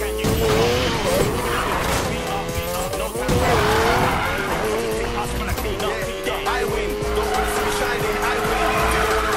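A car drifting in a video game, its tires squealing in long wavering screeches over a revving engine, loud and sustained across several slides, with no one talking.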